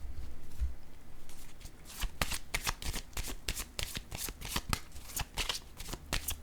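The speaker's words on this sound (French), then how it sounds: "Je pense que je vais piger une carte rose." A deck of pink cards being shuffled up close, a soft rushing riffle followed by a quick run of crisp, evenly spaced card flicks and snaps, clear and with no talking.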